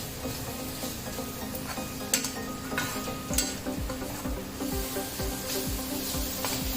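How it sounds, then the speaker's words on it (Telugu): Gongura meal maker curry with green chillies is stirred in a pan, with repeated close scraping strokes over a steady sizzle. "అన్నీ బాగా కలుపుకోవాలి"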